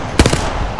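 A short burst of automatic gunfire in Apex Legends cracks sharply and close, a few rapid shots within a fraction of a second before fading into game ambience.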